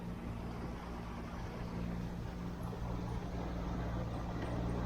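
A steady motorboat engine drones at moderate distance with a low hum and broadband water wash, holding constant throughout.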